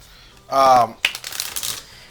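Cards from a deck for a Street Fighter board game being shuffled: a brisk, close riffling burst lasting about a second, coming right after a short spoken voice.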